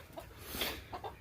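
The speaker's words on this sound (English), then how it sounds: "we're back up here at the chicken house" Chickens at the chicken house give a few short, soft clucks over a faint background, close but quiet.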